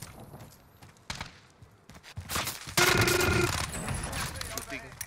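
Bursts of gunfire in Call of Duty Vanguard Warzone on Rebirth Island crackle at close range, with scattered shots and impacts building into a louder volley, while voices talk over the action.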